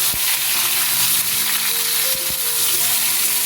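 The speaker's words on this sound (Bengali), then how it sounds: "সিদ্ধ করে রাখা পেঁপেটা দিয়ে পেঁপেটা আলুর সাথে ভেজে নিচ্ছি।" Boiled papaya and reddened potato pieces fry in oil in a pan for a Bengali papaya-potato curry, a loud continuous sizzle with a few sharp clinks of stirring.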